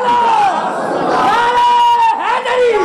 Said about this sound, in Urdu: فاروقی صاحب نے نعرہ لاؤ یا ابا جی دا نعرہ لاؤ